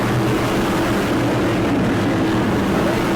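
A Bobby Isaac replica modified race car pacing past the front straightaway at New Smyrna during the World Series makes a continuous loud engine roar with a steady low drone. There is no talk.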